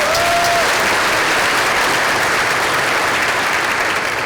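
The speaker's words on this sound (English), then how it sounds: "Round of applause for those leaders." An audience at a school district keynote breaks into steady, loud applause that fills the room for several seconds.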